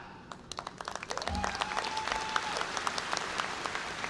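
Graduation families at a university commencement ceremony start with scattered, distinct claps that quickly build into a fuller round of applause, with a voice briefly heard over it.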